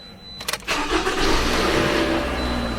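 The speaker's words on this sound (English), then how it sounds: "Gonna start the car." Car engine cranking with a quick burst of starter clicks, then catching and settling into a steady close idle.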